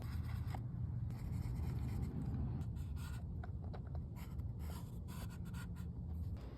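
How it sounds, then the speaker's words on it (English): A pen or marker traces a hole outline onto a new Honda Element seat panel, making faint scratchy strokes and scrapes close by over a steady low background hum. "take the hole from this old panel and just trace one on this new panel here"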